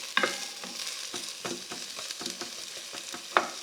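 Vegetables sweating in a Dutch oven for tomato soup, a soft steady sizzle broken by scraping stir strokes and a couple of sharper clinks, close up with no voices.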